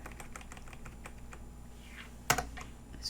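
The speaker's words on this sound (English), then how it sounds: "This keyboard is a little wonky." Quick, light taps on a slightly wonky computer keyboard, an irregular run of close keystrokes over a low hum, ending in one sharper, louder clack near the end.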